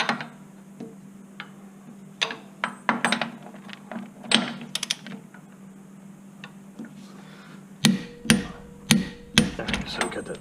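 Torque wrench and hand tools working on a Chevy Spark rear hub during a bearing repair, heard as sharp metallic clicks and taps in scattered bursts, with a closer cluster of clicks near the end and no talk.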